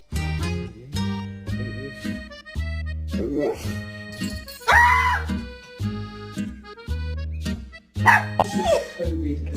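A dog barks and whines repeatedly at close range, mixing yelping howls and whimpers in an uneven rhythm that continues throughout, with a louder yelp near the middle and another near the end.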